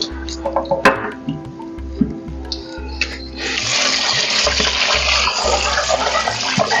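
A few clinks and handling knocks, then water pours steadily and splashes loudly as fish is rinsed with yogurt water under a running stream.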